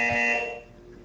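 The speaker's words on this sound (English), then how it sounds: "You will hear a buzzer." A buzzer in the video game Portal 2 sounds once, a loud harsh tonal buzz that holds for about half a second and then decays away.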